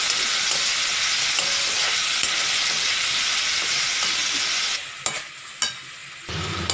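Cauliflower, sprouted matki and potato sauté in hot oil with a continuous close sizzle, then it briefly quietens as a spoon scrapes and clinks against the pan.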